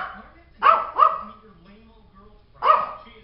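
A dog barks from a TV show, three sharp woofs at mid distance, two close together then one after a pause, with a quiet murmur underneath.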